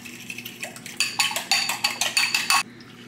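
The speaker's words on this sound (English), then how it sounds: "I'll whisk it all up." Two eggs with seasonings whisked in a bowl: a quick run of about a dozen rhythmic metallic clinks against the dish, close and crisp, stopping abruptly.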